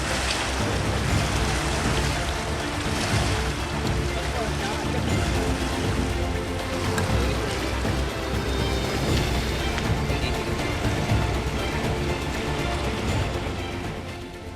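Heavy monsoon rain in Maharashtra's border district of Belagavi, where the Krishna and Vedaganga rivers are flooding, heard as a loud, steady, dense roar of downpour that holds unbroken from start to finish.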